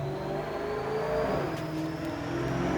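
A Whipple supercharged car on a dyno with a fuel problem, its engine droning and revving at a moderate distance in a continuous, gnarly tone without any speech.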